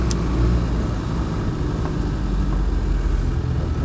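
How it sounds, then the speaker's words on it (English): A Land Rover 90 with a 200TDi diesel engine runs on the move, a steady low rumbling drone with road noise, loud and continuous from inside the cabin. "The 200 TDI engine reputedly was put in last year by the last owner."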